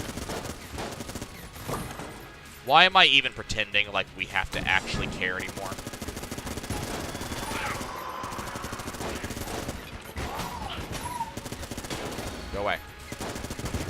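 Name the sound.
Vulcan cannon firing in video game Enter the Gungeon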